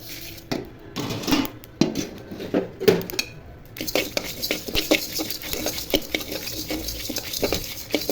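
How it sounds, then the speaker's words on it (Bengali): Mustard seeds toast in a pan after panch phoron for an olive pickle, stirred close up. Repeated scraping and rattling strokes come with a quick, light patter of seeds. "এখন সরিষাগুলো দিয়ে ভেজে নিব।"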